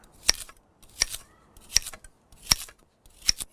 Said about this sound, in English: I don't like these ugly ends, so we'll cut those guys off. And this we'll just cut.